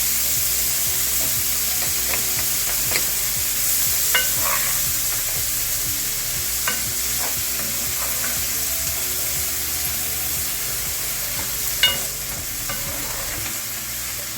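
A cup of frozen peas cooks in a pan with a continuous soft sizzle, stirred at intervals with scattered scraping taps from a utensil. No one speaks.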